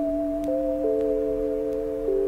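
Soft lo-fi melody sample from the Cymatic Sloth starter pack plays alone, a few sustained tonal lines with gentle note changes at a steady quiet level.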